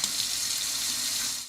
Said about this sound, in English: When you pour a glass of water from the faucet